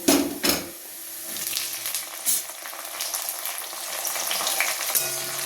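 Onions and freshly added chopped tomatoes fry in a pan with a soft, steady sizzle, opened by a couple of clanks of a spoon or utensil against the pan, close and fairly quiet, with no voices.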